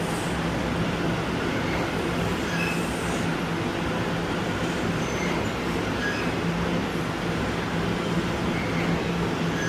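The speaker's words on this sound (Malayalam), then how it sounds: "അപ്പോൾ അടുത്ത ട്രെയിൻ ഇപ്പോൾ ഇവിടെ വരും." An NYC subway train pulls into Canal Street station with a loud, steady rumble of wheels on track and a few faint high squeals, heard close and continuous without any talk.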